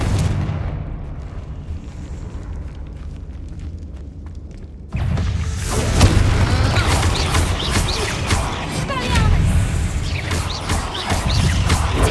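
A Confringo fire spell detonates in Hogwarts Legacy, a sudden loud blast after a quieter stretch, followed by sustained crackling, rumbling debris and scattered impacts.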